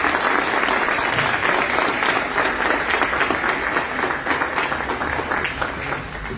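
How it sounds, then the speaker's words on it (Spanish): Steady audience applause at an indoor talk, dense and even clapping from a crowd sustained throughout without pause. "un fuerte aplauso para ellos"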